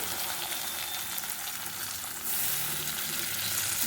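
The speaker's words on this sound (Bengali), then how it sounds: "এগুলো ভালো করে ভেজে নেব আলুগুলো ভাজা হয়ে গেছে" Potatoes frying in oil in a pan, a continuous close crackling sizzle that swells slightly louder partway through, with no talk.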